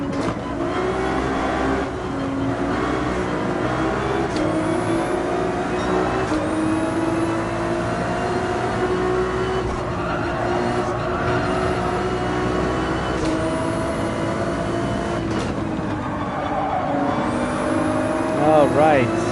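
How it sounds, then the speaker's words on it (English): A Porsche 911 GT3 engine in the Gran Turismo 7 racing game, revving hard at high RPM in a sustained racing drone with repeated gear-shift rises, while a person talks over it throughout. "One of the beautiful things of a Porsche 911 GT3 engine."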